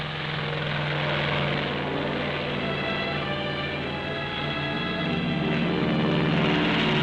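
A propeller airplane drones overhead as it climbs over soaring mountains on a polar expedition, a steady loud engine roar with a constant tonal hum that grows slightly stronger toward the end.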